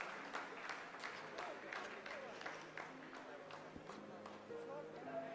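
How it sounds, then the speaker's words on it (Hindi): ISRO scientists applauding in the mission control room during the Vikram lander's descent, scattered clapping held low beneath continuous commentary. "आप इस तालियों के गड़गड़ाहट को सुन सकते हैं"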